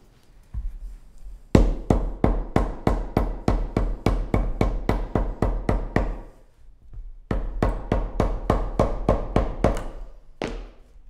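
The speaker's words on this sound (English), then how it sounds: "make sure each hammer hit is fully supported underneath by the anvil" A hammer striking a shoe footbed held on an anvil: a rapid, even run of sharp close-up knocks, a short pause, then another steady series and a final lone hit.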